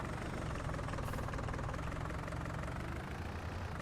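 A tractor engine idles in Farming Simulator 19, a steady low rumble with a faint knocking beat that holds at an even, fairly loud level throughout, with no voices.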